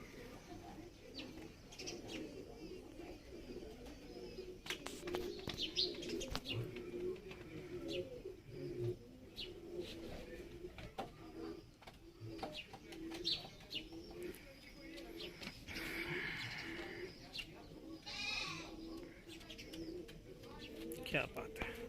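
Madrasi pigeons coo repeatedly nearby in low, throaty murmurs, with occasional chirps and rustling, while someone talks over them at times.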